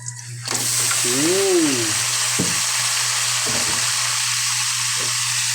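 Freshwater shrimp frying in a hot pan, a loud, constant sizzle with occasional scrapes and clinks of stirring, plus a steady low hum in the background.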